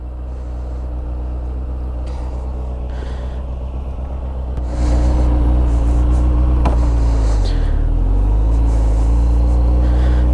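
Motorcycle riding on a road between Russian cities, a steady loud engine drone and wind rumble that jumps louder midway and holds, with no talking.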